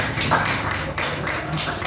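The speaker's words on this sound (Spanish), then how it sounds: "Bien, aplauso para él." Students in a 10th-grade classroom applaud a classmate, giving a busy, continuous patter of many hands clapping at moderate level with no pause.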